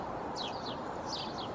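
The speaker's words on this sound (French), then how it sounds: "Il y a des oiseaux." Birds chirp outdoors in spring: two quick, high twittering phrases stand out clearly over a steady, even background of outdoor noise.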